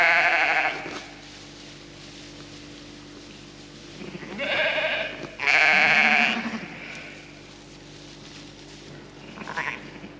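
Sheep bleats from a lamb and ewe ring out in a pen, one call near the start and two louder, close bursts around the middle, with a last short bleat at the end over a quiet steady hum.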